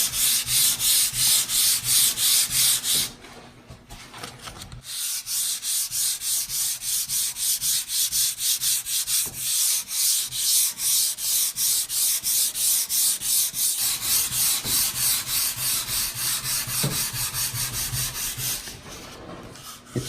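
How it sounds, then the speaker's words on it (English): Hand sanding an oil-finished wooden tabletop: rapid rhythmic back-and-forth rubbing strokes, loud and close, with a brief pause near the start and no talk. "So I'll just keep on going and finish sanding this whole end of the table this way,"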